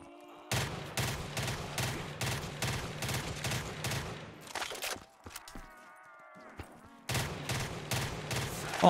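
Rapid automatic gunfire from a weapon in Black Ops 3 Zombies, heard as close, loud, evenly spaced bursts that stop briefly behind a faint tonal game sound and then resume at the same rhythm.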